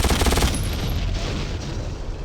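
Explosions and gunfire roar through the Polish shooter Mortyr, a dense, loud burst of blasts with rapid firing layered underneath, with no voices.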